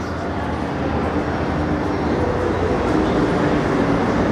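Hogwarts Express train ride at Universal Orlando, a steady loud rumble of rolling rail cars heard from inside, continuous and even with no talk.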